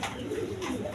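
Pigeons kept by a pigeon seller coo softly and steadily, a continuous low burbling throughout with no talk.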